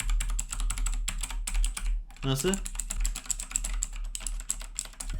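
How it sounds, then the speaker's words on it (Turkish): Rapid key clatter from a Gamepower Calypso keyboard plugged into a computer, a dense run of close, crisp clicks that pauses briefly while a voice speaks a word, then resumes. "Klavyemizi bilgisayara takıp bir de sesini dinletmek istiyorum size."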